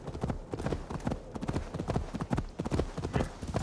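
Horse hooves clip-clop in a quick, steady rhythm in Assassin's Creed Valhalla, fairly close and clear, with a low game ambience underneath.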